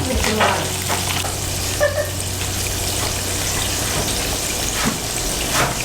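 Pieces of chicken karaage frying in hot oil, a steady close crackling sizzle with a few soft knocks and splashes as more pieces go in.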